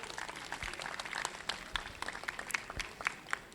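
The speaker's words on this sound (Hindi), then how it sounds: "एक बार इन बच्चों के लिए ज़ोरदार तालियां बजाइए" A school audience claps for the children after their show, a faint, scattered patter of hands with distinct individual claps standing out, heard at a distance.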